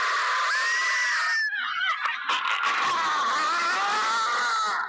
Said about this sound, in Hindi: बहरा कर देने वाली उनकी तेज और ऊंची चीख